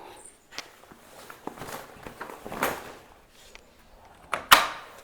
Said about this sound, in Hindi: ये वाला दरवाज़ा खोलती हूँ